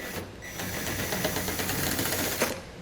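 A ratchet on a long extension unscrews a 7mm bolt behind the headlight of a 2022 vehicle during a base plate installation, giving a steady run of fast, close mechanical clicking for about three seconds with no speech.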